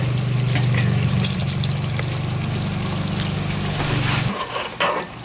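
Chicken sausage sizzles loudly and steadily in a frying pan for a gumbo, a dense crackling hiss with a low hum beneath, then the sound thins and stutters as the sausage is lifted out near the end.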